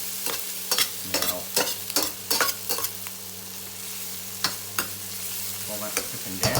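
Beans fry in lard in a pan, a continuous close sizzle broken by sharp clacks and scrapes of stirring, with a brief word spoken at the start.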